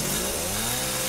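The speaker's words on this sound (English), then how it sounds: "That can't be good for the chainsaw." Chainsaw revving and cutting in the video game Resident Evil VII, a loud, steady buzzing drone that holds without a break for about a second.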